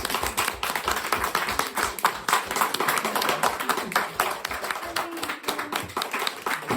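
An audience claps at a storytelling event at the Dylan Thomas Birthplace, with dense, steady hand-clapping sustained from start to finish and a few faint voices mixed in.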